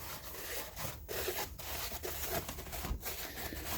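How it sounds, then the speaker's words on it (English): A cloth rubs in quick repeated strokes across the cylinder head surface of a 1974 Camaro small block 400 engine, a soft, close, faint wiping sound with no talk. "I'm going to give this a last wiping here before the new gaskets go on"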